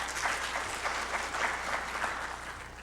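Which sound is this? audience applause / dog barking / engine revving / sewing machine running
audience applause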